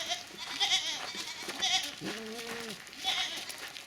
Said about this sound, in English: Because these goats hate rain.